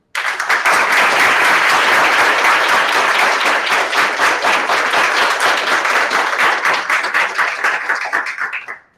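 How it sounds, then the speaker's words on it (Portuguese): An audience at a university law school's aula magna applauds the lecturing professor: dense, loud, sustained clapping lasting about nine seconds before it tapers off, with no talking over it. "nós não tivemos tempo de saudá-lo ainda com a salva de palmas"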